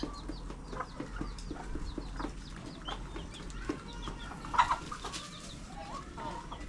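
Roosters and chickens cluck and call on a farm where roosters are raised, several birds heard at a moderate distance over steady low background noise, with one louder call near the middle.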